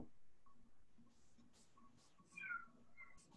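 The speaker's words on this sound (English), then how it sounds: "Even the cat thinks it's hard. That's why he's crying." A cat cries with several short meows spread through the moment, fairly faint and close by, over a quiet room with a soft low hum beneath.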